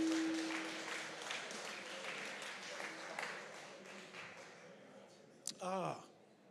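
Scattered applause from an audience at a university entrepreneurship innovation challenge final, fairly faint and fading out, with a voice speaking briefly near the end.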